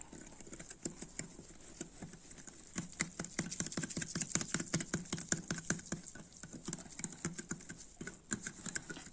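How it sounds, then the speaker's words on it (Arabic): Amba powder being whisked into a cup of water: a rapid, steady run of light clicking taps from the whisk against the cup that continues for the whole stretch at moderate volume, with no talking. "أظل بالوسك أخلط بيها فد دقيقة"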